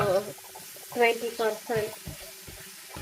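Ingredients for black urad dal chutney sauté in oil with a soft, steady sizzle that stays under a person speaking throughout.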